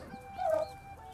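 A hen with her roughly month-old chicks gives a single faint, brief cluck over quiet background.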